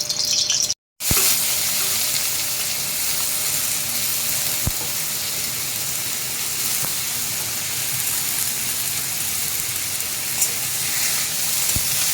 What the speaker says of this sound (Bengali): চলুন আলুটা ভেজে নিই।